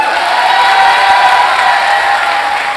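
A convention audience at Mangame Fréjus 2017 breaks into loud, sustained applause mixed with cheering and a few whoops, a dense crowd roar holding steady close by for the whole moment.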